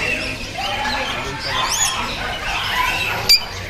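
Caged crows at a pet market in Kuwait caw and chirp among other birds, with calls scattered over market background, a voice talking, and one sharp click near the end.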